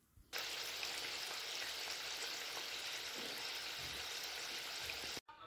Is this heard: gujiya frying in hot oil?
yes